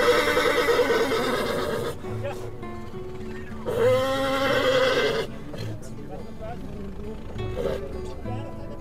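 A horse neighs and whinnies at the Muktsar horse fair in Punjab, with a long loud whinny in the middle, amid crowd chatter, people talking and hoof clops.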